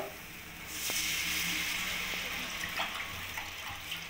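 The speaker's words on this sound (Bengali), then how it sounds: "মশলাটা ভালো করে কষানো হয়ে গেছে, এর মধ্যে আমি জল দিয়ে দেবো।" Water is poured into fried spice masala in a pan for bottle gourd kofta curry: a quiet start, then a sudden gushing splash and hiss that fades into bubbling, with a few small knocks.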